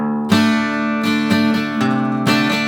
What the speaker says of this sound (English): now that D/B is going to usher in a quick little pre-chorus riff